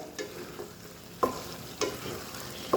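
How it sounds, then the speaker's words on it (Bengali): Beef cooking with jackfruit seeds is stirred in a pot, with a low sizzle broken by three or four distinct scraping stirs, close by and with no talking. "মাঝে মাঝে আমি মাংসটা নেড়ে চেড়ে দেব"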